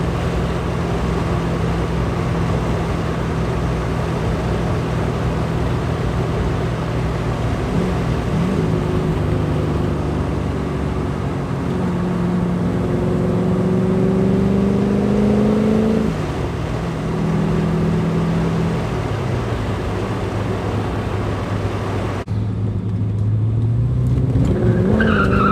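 A Porsche 944 with a swapped-in LS V8 is driven hard, its engine droning loudly and rising and falling in pitch as it revs, with tire squeal throughout, heard from inside.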